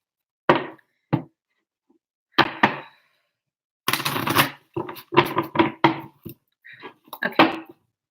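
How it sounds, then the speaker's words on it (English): Tarot cards being shuffled by hand in quick bursts, a series of short riffling and tapping sounds separated by brief pauses, close and fairly loud, with no talking. "I'm going to just shuffle these really quick."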